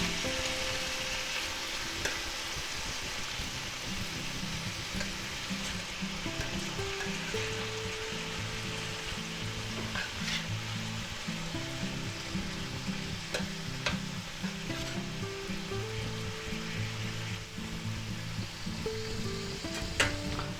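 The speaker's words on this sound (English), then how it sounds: "Stir fry them up a little bit here." Mushrooms stir-fried in a pan for a beef and vegetable chop suey, a steady close sizzle and crackle running throughout with bursts of stirring, no talking.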